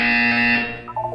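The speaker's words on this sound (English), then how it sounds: "When you hear the buzzer, look up at the ceiling." A loud, steady electronic buzzer from the Portal 2 video game drones with a harsh tonal hum, then cuts off and gives way to a brief softer tone.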